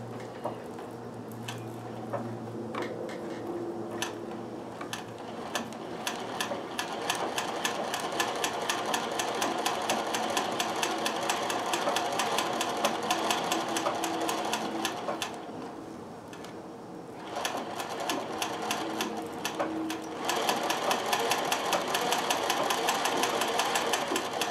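An embroidery sewing machine stitches variegated metallic thread onto net, running steadily with a fast, even mechanical clatter that pauses briefly and then resumes.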